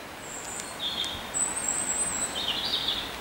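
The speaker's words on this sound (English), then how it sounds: "And listen to the birds singing." Birds sing in woodland, with several clear chirps and whistled phrases rising over a soft, steady outdoor hiss, some near and some farther off.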